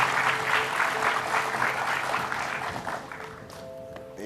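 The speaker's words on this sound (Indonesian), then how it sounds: "Tepuk tangan dulu tuh Pak Soeharto." A studio audience on an Indonesian television talk show applauds for a guest, steady clapping that tapers off near the end as a voice begins.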